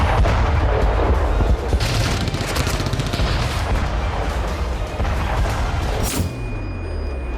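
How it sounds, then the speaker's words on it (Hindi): Rapid salvo of Ukrainian army missile launches fired at Russian positions near Bakhmut at night, a dense, continuous roar of blasts and booms that ends abruptly into a fading rumble. "सिर्फ 8 सेकंड में यूक्रेनी फौज ने रूस के ठिकानों पर 18 मिसाइल दाग दी।"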